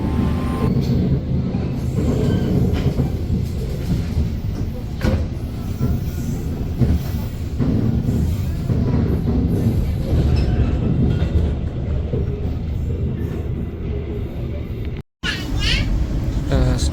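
A passenger train runs on the railway line, with a continuous loud rumble of wheels and rails, scattered clacks and squeals across the whole stretch, a brief dropout near the end, and background voices.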